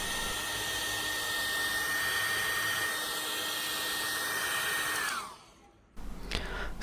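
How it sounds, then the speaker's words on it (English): Hair dryer blowing steadily to heat the screen of an iPhone X, a loud continuous whoosh with a whining motor tone that winds down as it is switched off, followed by faint handling noise. "Take any hairdryer and heat the surface of the screen for 1 or 2 minutes."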